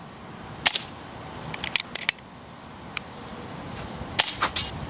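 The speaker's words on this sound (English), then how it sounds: "Actually, I'm gonna shoot his back right foot, left foot." Airgun shots fired at an iguana in a tree in Florida, a handful of sharp snapping cracks spaced irregularly over quiet outdoor background.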